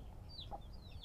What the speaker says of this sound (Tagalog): tatlong native na hen ito sa dalawa